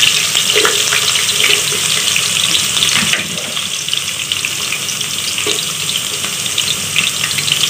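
Onions fry in hot mustard oil with cloves and fenugreek seeds in a pan, a loud, close, continuous sizzle with stirring scrapes and a brief dip in intensity midway; no one speaks.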